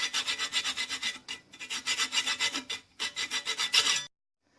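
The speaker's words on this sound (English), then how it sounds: "I cut down with a hacksaw through the aluminum collar to the tubing underneath." Hacksaw strokes rasping through an aluminum hose collar on crimped tubing, a steady back-and-forth rhythm of close, bright scraping in three bursts with brief pauses, stopping abruptly at the end.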